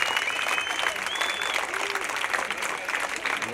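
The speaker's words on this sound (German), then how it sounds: "dann gib doch mal allen anderen den Applaus" A crowd at a Monday street demonstration and vigil applauding, sustained close clapping filling the whole moment, with a couple of brief whistle-like tones rising above the applause.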